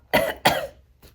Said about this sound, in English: and then I do a little fake cough